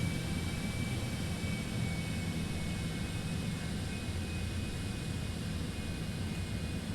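Citation X business jet engines run steadily in the FlightFX flight simulator, a constant broadband roar and hiss held at an even, moderate level throughout, with a faint high whine and no voices.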